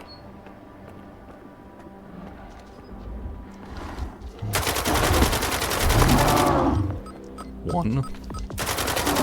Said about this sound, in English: I'm going to enjoy shooting him.